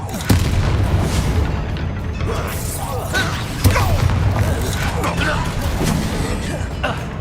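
Booming blasts from the Bombarda spell in Hogwarts Legacy, with a couple of sharper explosive hits rising over dense, continuous game action and rumble.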